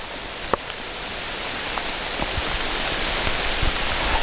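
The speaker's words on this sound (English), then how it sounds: "It's absolutely pouring." Heavy rain pouring down outdoors near Kalmar, Sweden, a dense, steady hiss of water with occasional louder drops and splashes close by.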